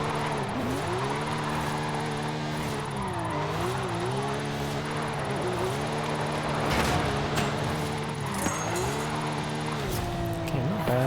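A Porsche 911 GT3 in Forza Horizon 5 slides through a drift, its engine droning loud and steady with rising and falling revs and tire noise throughout, no voices over it.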